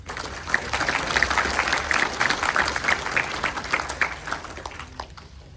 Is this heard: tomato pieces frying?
no